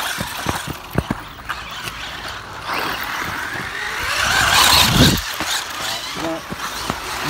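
Radio-controlled off-road cars, a Tamiya Grasshopper 2 and a Yokomo, race around a dirt track with buzzing electric motors that swell and fade as they pass, alongside clicks and impacts while someone talks in Japanese.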